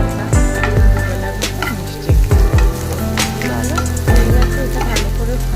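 A tadka fries in hot oil, a loud close sizzle with repeated clanks and scrapes of a spoon stirring against the pan, and no one speaks.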